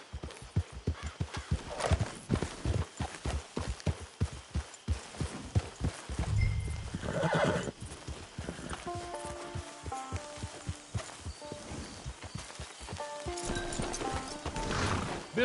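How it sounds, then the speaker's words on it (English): Horse hooves in Red Dead Redemption 2 clip-clop in a steady walking rhythm near a camp, then slow, with a whinny and snorts in the middle before the plodding resumes. "Get your horse."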